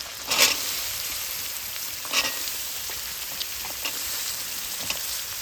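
Chopped carrots and beans fry in a pan with an even, moderate sizzle, punctuated by a few sharp spoon taps against the metal.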